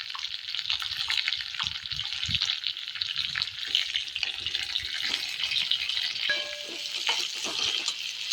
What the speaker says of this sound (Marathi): आता टाकूया आपण थोडंसं हिंग त्याच्यामध्ये